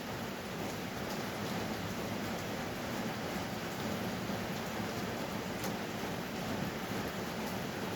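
Steady rain pours down continuously, a dense even hiss of drops striking surfaces, with no voices present.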